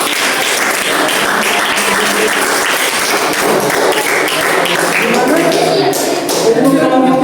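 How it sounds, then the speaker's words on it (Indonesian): Classroom applause for a student group, a dense patter of many hands clapping at close range that runs steadily for several seconds while voices chatter underneath. "Oke, kasih aplaus sama kelompok 3."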